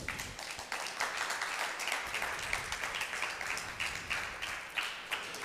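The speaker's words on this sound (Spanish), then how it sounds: "Dale un aplauso al Señor" A church congregation gives a round of applause during a Sunday sermon, with rhythmic, moderately loud clapping from many hands that sounds somewhat distant and keeps going steadily throughout.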